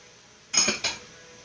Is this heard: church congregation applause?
no